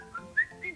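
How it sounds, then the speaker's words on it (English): A person whistles a short, cheerful tune of three bright, rising notes, clear and close with nothing else behind it. "And as he walked along, he whistled a happy tune."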